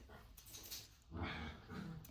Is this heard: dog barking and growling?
yes